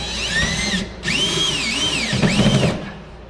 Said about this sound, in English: let's finish putting the rest of the screws in.